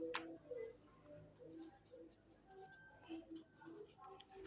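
Pen writing by hand on paper beside a calculator while working a simultaneous linear equation: faint, close scratching strokes in short bursts, with soft background tones and a quiet room hum.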